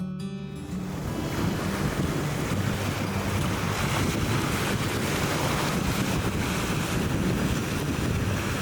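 Sea waves at Ormara beach in Balochistan, a loud, steady wash of surf mixed with wind noise that rises after a brief quieter start and roars on continuously.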